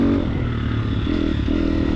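Triumph TF250X motocross bike with a nearly new, barely run-in engine, holding a loud, steady buzzing idle close by, slightly rising and falling in pitch with some mechanical clatter.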